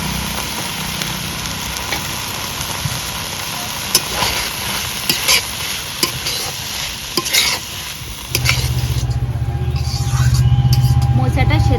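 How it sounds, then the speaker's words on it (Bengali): Chopped banana flower is stirred into frying spice paste in a pan for kopta, with scraping spoon strokes over sizzling oil that grows louder and steadier near the end. "এবারে মশলার ওপরে কেটে রাখা মোচাটা দিয়ে দেবো"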